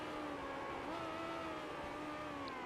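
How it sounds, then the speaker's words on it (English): A race car in a racing video game drones steadily at close range, its engine note rising and falling slightly as the gearbox works through the gears, with no talk over it. "kind of hear the gearbox and the engine sounds as they go up through the gears and down the gears"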